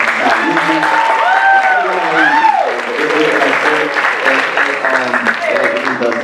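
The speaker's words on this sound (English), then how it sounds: "please give a round of applause to everybody who actually performed" Audience clapping at a student talent show, steady applause that runs under prominent voices and a tonal singing-like voice riding over the top.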